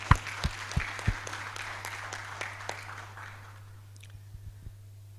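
Audience at a 10th anniversary award ceremony in Lilongwe, Malawi, applauding with a few loud claps up close over a scattered crowd clapping that thins out and fades toward quiet, with a low steady hum underneath.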